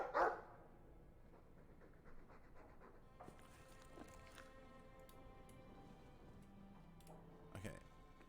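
A Mabari war dog in Dragon Age II lets out a single sharp, close bark at the very start, followed by quieter game ambience and soft tonal effects.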